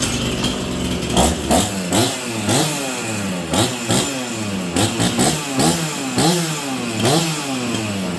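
A chainsaw fires up and revs repeatedly, its whine rising and falling in quick bursts of throttle, loud and close with no talking.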